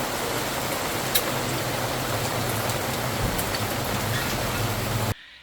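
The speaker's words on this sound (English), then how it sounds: "It was pouring down rain" Heavy rain pours steadily at an outdoor market, a dense, loud, unbroken wash of hiss that cuts off abruptly near the end.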